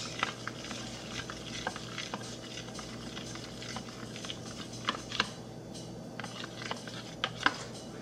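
Spoon stirring a thick, sticky fluffy slime mixture in a bowl, giving steady close-up squelching and scraping with small clicks and taps, quiet and continuous with no talking.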